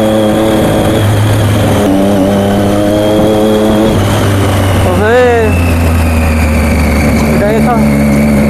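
Motorcycle engine running with no silencer fitted, a loud, steady low rumble with a couple of brief throttle blips, under a voice talking throughout.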